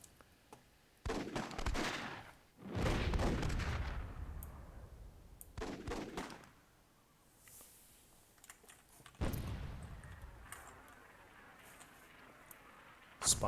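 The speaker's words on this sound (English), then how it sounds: "Someone just got annihilated with a cannon shot." Cannon fire in the Myth II Soulblighter video game booms as several loud, broad blasts with rumbling tails, spaced a few seconds apart, alongside quieter clicks and thuds.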